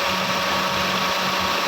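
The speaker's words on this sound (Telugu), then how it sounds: "ఇంజన్ ఆన్లోనే ఉంది. చూడండి వినండి సౌండ్ కూడా" A Mahindra car engine idles with the air conditioning running, a smooth steady hum with a faint even tone and no revving over the short stretch.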